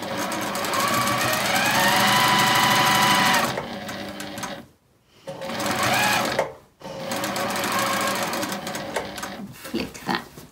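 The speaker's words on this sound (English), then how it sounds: "I'll sew along here, using a quarter inch down to the pivot point." A sewing machine stitches a quarter-inch quilt seam in long, fast, steady runs, pausing twice briefly, close and loud, with a few lighter taps at the end.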